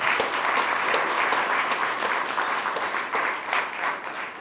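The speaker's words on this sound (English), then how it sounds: "I think they deserve a round of applause." An audience gives a round of applause for a solar boat challenge team, with dense, even clapping that holds steady throughout at close range.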